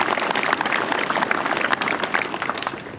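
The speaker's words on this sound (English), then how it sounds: "a big round of applause please guys for all of our sponsors" An audience at a Road Trip Drag Challenge event claps for the sponsors, dense continuous applause from a crowd filling the whole moment at close range.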